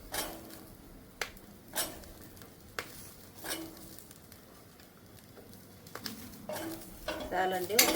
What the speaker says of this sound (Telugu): ఇప్పుడు అదే బాండి పెట్టుకొని గ్యాస్ పైన పచ్చిమిర్చి వేసుకుంటుంటా.